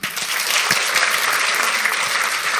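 Loud, sustained applause from an audience, dense clapping that fills the whole moment without pause or voices on top.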